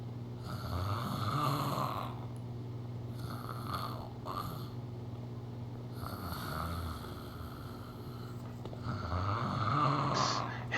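Rhythmic snoring from a character in the video game The Movies, slow rasping inhales repeating roughly every few seconds at a steady, close level over a constant low hum.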